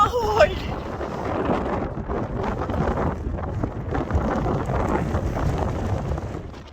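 Strong wind buffets the microphone on a summit on the Isle of Man, a loud continuous roar and rumble that gusts steadily throughout with no pause.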